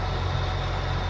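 A tractor engine idles in Farming Simulator 19, a steady low rumble with an even, unbroken drone held close and fairly loud for about a second, with no talk over it.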